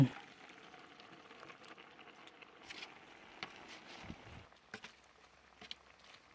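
Bok choy and kale leaves stir-fried in a pot for a Chinese New Year vegetable soup: faint, soft sizzling with scattered scrapes and clinks of stirring, quiet and close throughout.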